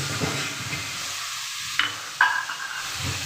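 Chopped tomatoes dropped into a hot pan of dal tarka give a steady soft sizzle and hiss, with a couple of brief sharp crackles midway, alone without talk.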